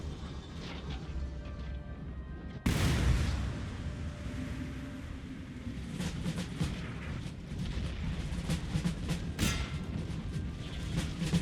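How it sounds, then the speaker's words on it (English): Artillery firing canister shot at line infantry in a video game, a sharp loud blast partway through followed by rumbling battle noise and scattered impacts. "you guys should be firing canister shot now"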